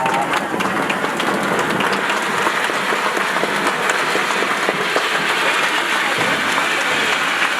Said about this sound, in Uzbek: Mana shu chiroyli olqishlar sizlar uchun.